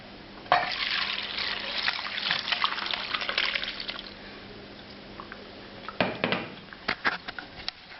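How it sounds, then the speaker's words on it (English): Milky aromatic broth from cooking meat is poured through a strainer, a broadband liquid splashing and trickling that runs steadily for several seconds, then breaks into scattered drips and small splashes near the end. "this lovely aromatic broth that's mostly liquid milk is going to be strained"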